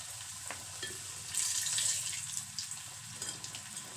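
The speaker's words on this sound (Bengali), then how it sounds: "দেখুন এইভাবে করে ভেজে নিচ্ছি কচুরি, আলুর খাস্তা কচুরি" Potato kachori fry in a karahi of hot oil, a soft steady bubbling sizzle that swells briefly midway, heard close and fairly quiet with no voices.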